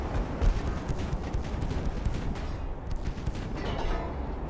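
Continuous rumbling naval gunfire from warships in the video game Ultimate Admiral: Dreadnoughts, as a dense wash of overlapping booms and blasts with no clear gaps.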